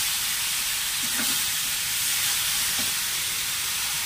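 Mushrooms, onion and vegetables fry with prawns in oil, giving a steady, dense hiss with a couple of faint stirring knocks and no voices.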